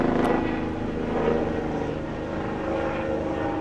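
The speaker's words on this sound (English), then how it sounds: "That's an aggressive helicopter." An aggressive helicopter passes overhead, a loud, steady engine and rotor roar that holds throughout without talk.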